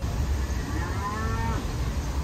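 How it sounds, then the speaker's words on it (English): A recorded cow moo plays from a motion-sensor animal statue at an outdoor heritage park near Bangkok, a single drawn-out moo with rising and falling tone over steady ambient background noise. "Oh, that one's a cow."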